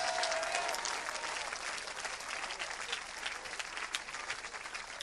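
Applause and cheering from a church audience acclaiming Jesus, dense and sustained clapping that fills the whole stretch and fades slightly toward the end.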